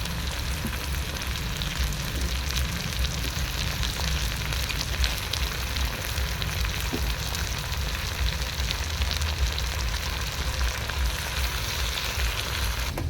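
Fish fat sizzles in hot oil in a pan over a wood fire, a dense, continuous crackling fry that stays loud and even throughout with no talk.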